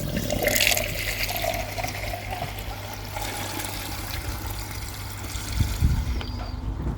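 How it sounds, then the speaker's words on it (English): Three litres of water pour steadily and splash into a jug, a continuous rushing flow with a few knocks and bumps near the end. "fill the jug, 3 litres of water into here"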